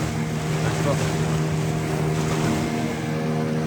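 A steady motorboat engine drones close by on the sea among many boats, with a low humming pitch, mixed with wind and splashing water throughout.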